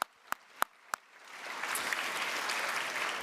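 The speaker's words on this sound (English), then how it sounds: "Let's give them a round of applause." A few sharp single claps ring out first, then full audience applause swells and continues steadily for sponsors at a benefit gala held in a museum.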